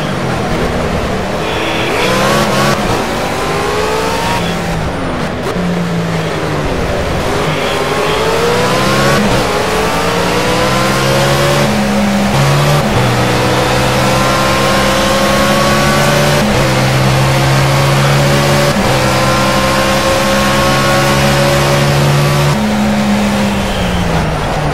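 Race car engine in the video game Project Cars, heard from inside the car: a loud, continuous engine note that revs up and down through repeated gear shifts, with steady tire and road noise underneath.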